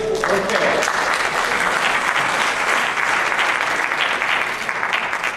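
At a city bike-share community meeting, a crowd breaks into sustained applause, loud and steady, filling the whole stretch before fading slightly at the end.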